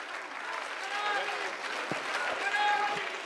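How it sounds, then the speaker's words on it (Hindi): An audience at a Sanatan Mahasammelan Hindu gathering claps loudly to welcome a guest, dense sustained applause over the whole stretch with a voice speaking over it. "एक बार जोरदार तालियों से उनका स्वागत करेंगे"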